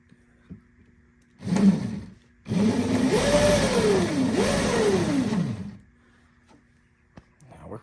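Electric motor whine from a motorized cooler running on a Milwaukee battery: a short burst, then a longer run with the pitch rising and falling as it speeds along, then quiet.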